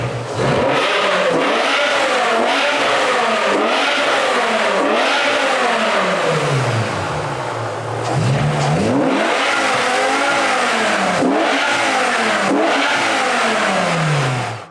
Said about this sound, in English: open up the valves on the FI exhaust so we can hear what the combo sounds like